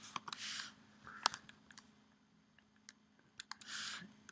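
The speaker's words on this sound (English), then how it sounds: "I'm going to type in the same URL" Keys clicking on a computer keyboard as a web address is typed, in quick short bursts with pauses between, fairly quiet and close, with no talking.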